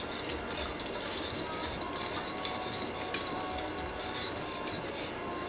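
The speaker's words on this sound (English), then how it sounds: "Stir it well." A spoon stirs citric acid into a cup of water for homemade mozzarella, giving a steady close scraping and clinking against the vessel throughout, with no talk.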